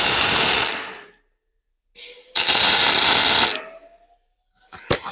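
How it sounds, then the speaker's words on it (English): Tack welds laid on a V-groove butt joint in 1/2 inch steel: two loud sustained crackling bursts, the first about a second long and the second about a second and a half, with a short sputter between and brief clicks at the end. "Start with our tack welds."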